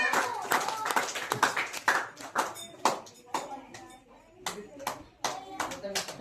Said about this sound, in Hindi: एक बार जोर तालियां इनके लिए जोरदार तालियां।